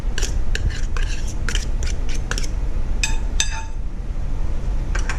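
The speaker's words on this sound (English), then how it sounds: "use a fork and scoop that in with our noodles" Metal fork clinks and scrapes against a dish while drained canned tuna is scooped into noodles, a string of sharp close taps over a steady background hum.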